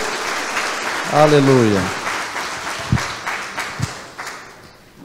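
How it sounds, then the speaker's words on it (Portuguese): A church congregation claps, spread and uneven, while a voice shouts over it and a few sharp single claps and knocks stand out as the applause fades. "Dá um aplauso ao Senhor bem forte."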